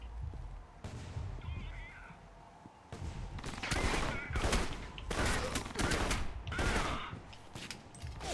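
Stealth action game Alpha Protocol: bursts of gunfire crack out in several loud, broadband volleys over a rumbling background, with fireworks noise meant to mask them.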